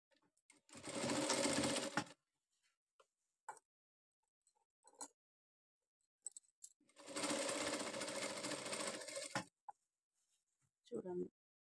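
Sewing machine stitching the neckline of a blouse, two long loud runs of rapid whirring separated by quiet gaps with faint clicks and handling noises.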